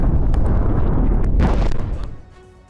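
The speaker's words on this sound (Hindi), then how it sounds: "धमाके किए।" Explosions near a military base in Haifa, Israel, during a Hezbollah attack come through as a heavy, sustained booming roar with sharp cracks inside it, loud and rumbling before fading away.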